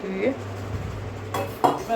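Metal pots, a wok and utensils clink and clatter in a few brief knocks over a low steady hum, close by.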